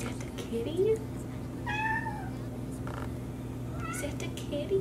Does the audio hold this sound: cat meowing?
yes